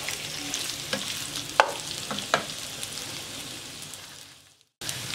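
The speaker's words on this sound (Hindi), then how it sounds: "हल्का सा इसको फ्राई कर लेंगे हाई फ्लेम पे कि इसको गोल्डन कलर आ जाए" Garlic butter chicken frying on high flame in a pan, giving a steady close sizzle with a few sharp clinks of stirring. The sound drops out briefly near the end and then returns.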